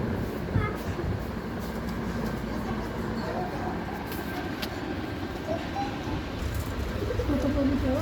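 Pigeons cooing outdoors on open land beside a road, faint and intermittent under a steady wash of background noise.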